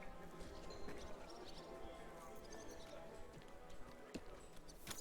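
Horse hooves clip-clop in the medieval game Kingdom Come: Deliverance II, a faint run of quick hoofbeats among ambient game sounds, with a brief whinny and occasional sharp clacks.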